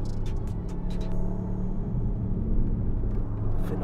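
A Porsche sports car on a race track roars with a loud, sustained engine rumble and a steady low drone, with brief higher-pitched whines over the first second.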